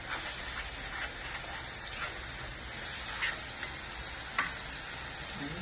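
Crushed charred tomatoes, grated capsicum and a little salt sauté in oil in a pan for pav bhaji. A steady close sizzle carries through, and faint stirring clicks break in now and then. No one speaks.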